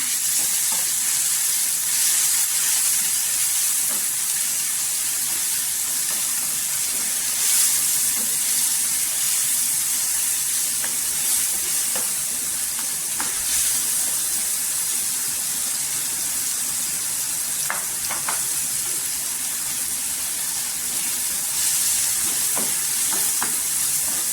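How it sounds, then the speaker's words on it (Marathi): Onion and tomatoes sauté in oil with salt, a loud, continuous hissing sizzle that holds steady throughout, broken only by a few faint utensil clicks. "छान असं तेलावर परतून घ्यायचा."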